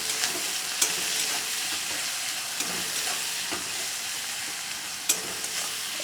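Onion and tomato frying in oil in a pan, a continuous close sizzle with occasional sharp spatters and stirring scrapes, no talking.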